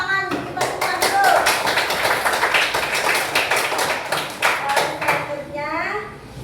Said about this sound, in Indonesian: Tepuk tangan dikipas-kipas dulu.